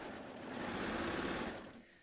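A sewing machine runs steadily up close, a dense continuous stitching whir that holds for about two seconds and then winds down, stitching around the edge of a small sewn gift.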